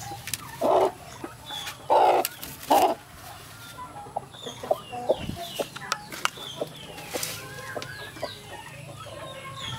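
A broody black hen clucks in a farmyard, giving several loud, close clucks in a short cluster followed by softer scattered clucks and small movements.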